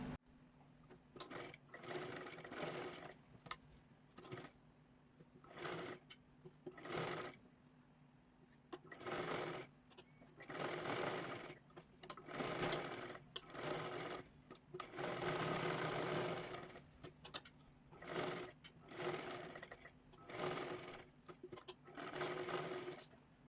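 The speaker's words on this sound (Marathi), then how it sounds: "नंतर पाठीमागच्या बाजूला घेऊन इथून आपल्याला सर्व शिलाई मारून घ्यायची आहे" A sewing machine stitches a blouse in repeated bursts of rapid mechanical whirring, close and fairly loud, with short pauses between runs.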